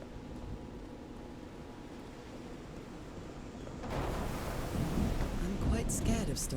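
Thunder rolls low and heavy through a stormy scene in the video game Call of the Sea, a steady rumbling wash that swells louder partway through with soft rain noise beneath.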